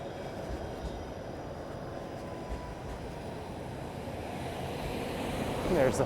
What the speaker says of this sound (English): There's a 506 Carlton streetcar, and that'll be making its way to the High Park Loop.